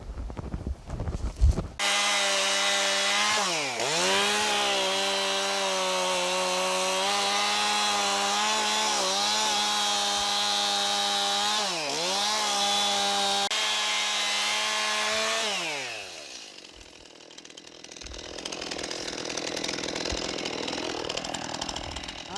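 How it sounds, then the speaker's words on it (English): A chainsaw cuts the tops off a tree stump, its loud, close engine holding a steady high whine with brief dips and re-revs. It cuts out around two-thirds through, leaving quieter rustling. "I think I'll just grab the chainsaw"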